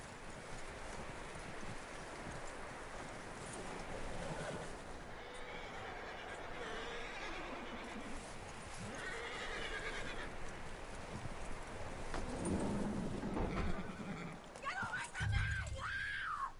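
Hooves clop steadily over ground while people talk, and near the end a horse lets out a sharp, high whinny, in the video game Red Dead Redemption 2.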